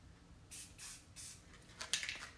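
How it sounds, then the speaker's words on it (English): Navy spray paint hisses from a can onto a tumbler in four short, soft bursts. The sprays come close together at an even pace, and the last one sputters a little. "I always spray it with the navy in some spots,"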